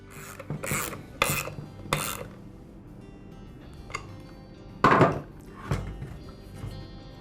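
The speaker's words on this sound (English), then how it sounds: "I'll secure the nut with a ratchet wrench" Ratchet wrench tightens the nut on a Ryobi handheld gas blower, giving several short bursts of metallic clicking followed by a sharper rasp and a few fainter clicks, close and with pauses between.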